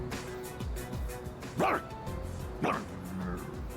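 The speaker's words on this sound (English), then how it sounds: "Very funny dog sounds." A dog in the video game Persona 3 Reload gives a few sharp yips and barks, two louder outbursts standing out over a steady backdrop of game music and sound.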